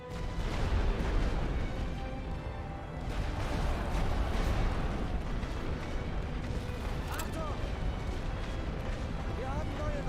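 A rolling artillery barrage in the WWI strategy game The Great War: Western Front, heard as a continuous, dense rumble of blasts and booms that holds steady and loud throughout, with occasional voices beneath it.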